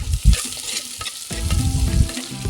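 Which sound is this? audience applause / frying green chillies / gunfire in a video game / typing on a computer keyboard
frying green chillies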